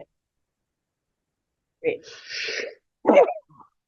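A single sneeze bursts out near the microphone during a school board meeting, preceded by a short breathy intake and followed by a brief voice.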